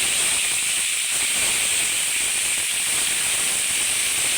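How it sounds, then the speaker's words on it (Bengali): Loud, constant hissing sizzle of salted cauliflower frying in a little hot mustard oil in a wok, dense and unbroken throughout. "ফুলকপিগুলো দিয়ে একটু নুন দিয়ে আমি কপিগুলোকে সুন্দর করে ভেজে নেব।"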